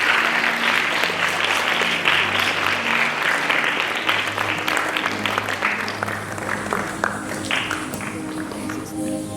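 Applause from an audience at a primary school prefects' investiture as students come on stage, steady dense clapping that continues throughout and slowly thins and fades toward the end.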